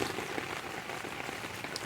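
Steady rain patters on a tent in a trailside camp, a dense continuous hiss of drops with occasional louder taps, close and even throughout with no talking.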